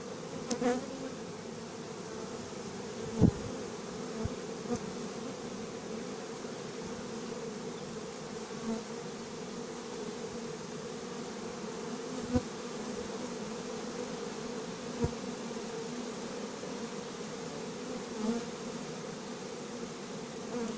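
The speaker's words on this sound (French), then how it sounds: "les abeilles qui montent en procession" Honeybees climb in procession into a hive during a hiving at a farm, giving a steady, dense buzzing drone that fills the air throughout, with a few brief knocks and taps.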